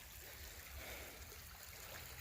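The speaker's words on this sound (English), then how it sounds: "a branch of the Kings Creek." A branch of Kings Creek flows and trickles in a rainy wooded state park, a quiet, steady rush of running water with no voices.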